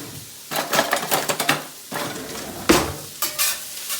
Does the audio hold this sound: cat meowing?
no